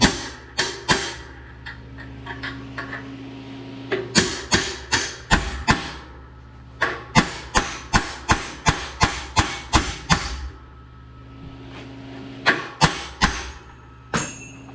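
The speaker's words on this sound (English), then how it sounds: "try it again with a smaller chisel" Hammer blows on a thin chisel working a 385 cultivator ring out in a steady series of sharp metallic strikes, close and loud, in several bursts with short pauses between them and no talking.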